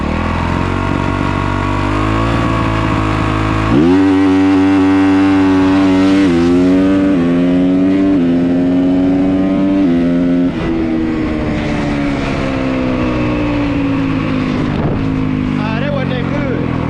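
A dirt bike engine holds high revs, then jumps in pitch as the clutch is released for a launch, climbing through loud, rising harmonic sweeps with a voice talking over the start.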